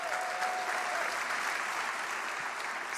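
A large audience at a Mark Twain Prize comedy tribute applauds steadily, sustained dense clapping that stays at an even, loud level throughout without voices on top.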